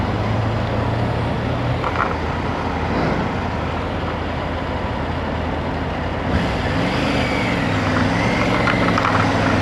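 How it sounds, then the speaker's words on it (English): Steady afternoon road traffic on East Lake, with trucks and cars passing in a continuous, fairly loud engine and tyre rumble that swells as vehicles go by. "East Lake gets a lot of traffic in the afternoons."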